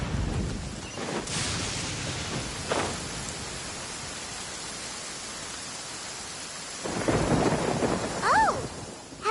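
A thunderstorm in Genshin Impact brings a steady wash of rain and wind, broken by several rumbling thunderclaps, with a louder burst near the end.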